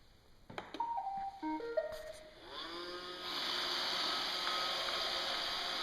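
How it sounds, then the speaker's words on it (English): An iRobot Roomba 561 robot vacuum starting up: a run of short electronic beeps and clicks, then a steady whirring motor hum. "And take it for a spin."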